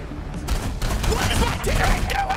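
Rapid aircraft gunfire in War Thunder, dense continuous bursts of shots with booming thuds, loud and close, with no speech over them.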